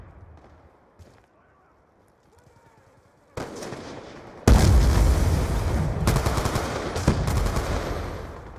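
Rapid automatic gunfire from the Black Ops II video game, a burst kicking in loudly after a quiet start and continuing in dense, sustained volleys with sharp louder cracks near the end.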